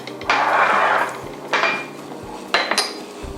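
A chef slides dishes and utensils across a kitchen counter while preparing a cold Japanese tofu dish, making three separate scraping, clinking bursts close by, separated by short quiet gaps.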